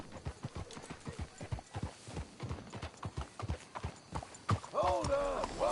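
In a Red Dead Redemption 2 scene, horse hooves clip-clop in a steady rhythmic trot, followed by a rising horse whinny near the end, with voices talking over the hoofbeats.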